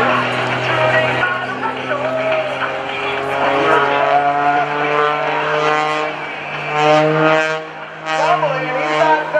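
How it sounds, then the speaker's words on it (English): A propeller aerobatic plane tumbles overhead at the 2014 NAS Oceana airshow, its engine droning and shifting pitch in loud sustained waves, with an announcer talking over it throughout. "He's going to tumble that airplane some more."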